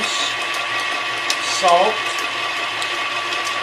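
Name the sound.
electric mixer mixing flour, spices and baking powder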